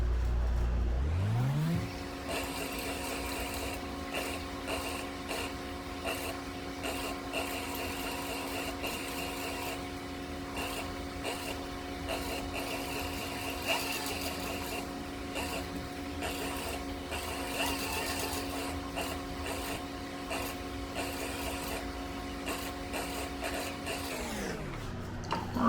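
Sewing machine stitching a maker's mark onto a sling bag, a steady whirring motor drone that starts up, runs evenly with faint rhythmic chatter for about twenty seconds, then winds down.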